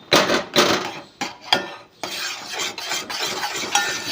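Puran poli dal mixture stirred in a pan, repeated close scraping and knocking strokes of a utensil against metal with a soft sizzle beneath, no talking.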